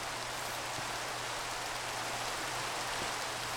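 Continuous Minecraft rainfall fills the scene, an even, dense hiss of drops that stays at a steady level throughout with no voices.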